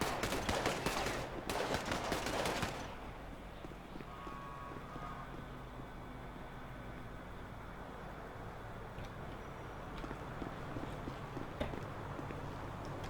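Gunfire from characters shooting in the GTA video game comes as a rapid burst of loud overlapping shots at the start, then gives way to quiet game ambience with faint scattered sounds.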